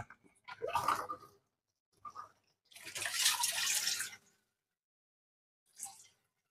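Water from an aquarium overflow pipe gushes and splashes into a sump filter in short, forceful bursts separated by quiet gaps, close and clear.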